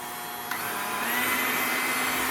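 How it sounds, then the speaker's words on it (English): An electric mixer runs at medium speed through pistachio cake batter, a steady whirring motor drone that rises slightly after a brief start and continues without any talking. "So we're going to mix it on a medium speed for about 2 minutes."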